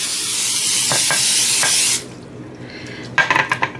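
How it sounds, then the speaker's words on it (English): A close, hissing burst of cooking spray into a muffin tin lasts about two seconds, followed by a few light metallic clinks and taps. "I just use some cooking spray. And I spray"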